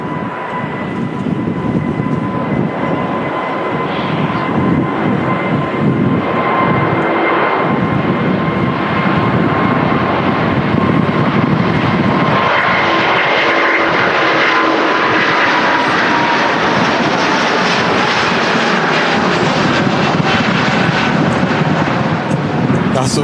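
An Airbus A350 airliner climbs out after takeoff from Manchester Airport, its engines giving a loud, sustained roar with a steady whining tone that holds for the whole stretch and stays strong and close.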